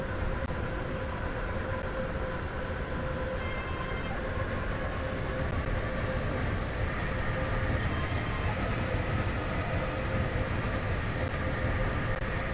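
The Stepford Express train in the video game Stepford County Railway runs steadily, a continuous loud rumble of rolling wheels and hum from inside the carriage, with faint periodic clicks and a constant tonal whine.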